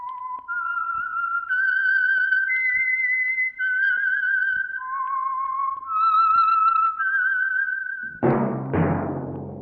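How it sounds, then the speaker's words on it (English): A lone whistler performs the eerie theme melody of The Whistler radio mystery show, sustained notes rising and falling clearly for several seconds, followed by a brief deep orchestral chord at the end. "That whistle is your signal for the Signal Oil Program, The Whistler."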